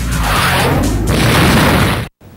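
Simulated explosion sound effect in a mock sports broadcast, a loud, sustained rumbling boom with crackling debris that fills the clip before cutting off abruptly into near silence.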